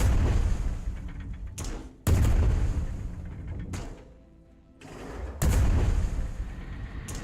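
Gunfire from an enemy ship in a naval video game battle, heavy booming cannon shots landing in a few loud separated volleys with rumbling decay between them, no talk.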